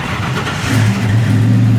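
A classic Chevy Nova with a modern engine swap cranks and fires, the engine catching and settling into a loud, steady idle close by, with no one talking.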